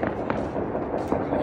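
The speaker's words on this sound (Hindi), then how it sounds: "आतिशबाजी तो बाद वहाँ भी शुरू हो भी गई है" Dense crackling bursts of New Year fireworks at Park View City, Lahore popping continuously over a noisy outdoor crowd, with a few sharper bangs standing out.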